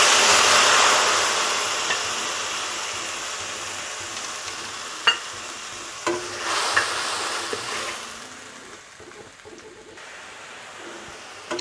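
Soaked spice paste with plenty of green chillies sizzles in a hot pan of tempering for a vegetarian pumpkin-stem and potato dish. A loud hiss fades gradually, broken by a few sharp clinks of stirring.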